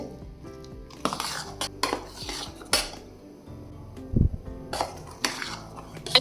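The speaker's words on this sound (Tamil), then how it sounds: "ஒரு கரண்டி வச்சு நல்லா கலந்து விட்டுடலாம்" A ladle scrapes and clinks against a metal pot while thick ragi kali is stirred, giving irregular knocks and scrapes that rise and fall, close up, with no one speaking.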